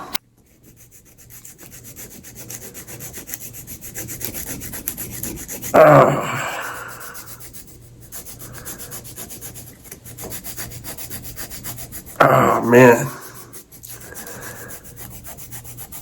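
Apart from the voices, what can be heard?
filing down bunions on feet to smooth them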